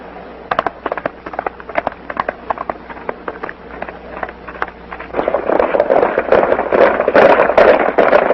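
Horses in a 1933 western film: scattered, rhythmic hoofbeats as riders set off, swelling into a dense, loud galloping clatter.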